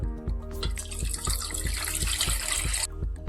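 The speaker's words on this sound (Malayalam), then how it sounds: "ഇനി ഒരു പാൻ അടുപ്പത്ത് വെച്ചിട്ടുണ്ട്, അതിലേക്ക് ആവശ്യമായ വെള്ളം ഒഴിച്ചു കൊടുക്കാം." Water poured into a pan on a stove, a close, steady splashing gush lasting a few seconds with no voices, set over a regular low background pulse.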